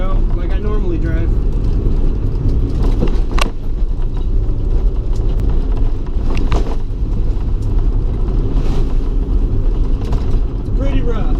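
Inside a 1990 Honda Civic EF hatchback on coilovers driving a rough road, a loud continuous rumble of road and engine noise carries faint rattles and knocks throughout.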